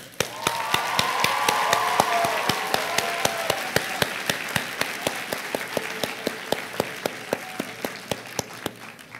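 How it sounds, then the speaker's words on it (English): A graduation audience claps for teachers, a steady wash of applause sustained through the whole stretch with sharp individual claps standing out near the front. "so please, a nice round of applause."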